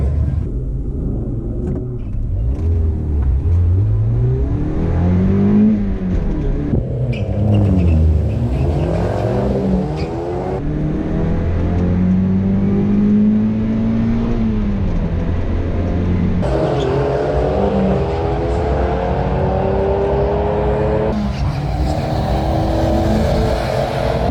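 A Mazda MX5 race car at Santa Pod revs hard and accelerates through repeated gear changes, its engine pitch climbing and dropping in loud sweeping waves, heard close and continuous for over twenty seconds.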